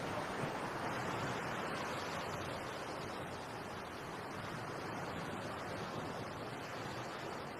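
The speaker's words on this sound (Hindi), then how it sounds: "अपनी आंखें बंद कर समुंदर की लहरों को सुनकर मुझे शांति मिलती है।" Steady ocean surf washes along a shore in a continuous broadband roar, with waves blending into an even wash and no voices over it.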